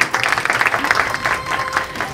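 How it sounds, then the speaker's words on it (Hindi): Audience applause in a literary gathering welcoming poet Rehana Roohi from Karachi, a dense, steady clatter of many hands clapping close by for about two seconds, with some voices mixed underneath. "आप सबकी तालियों की गूंज"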